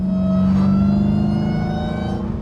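A Hellcat muscle car engine revs up close, holding a loud, steady throaty drone with bright harmonic overtones that swell briefly before easing slightly.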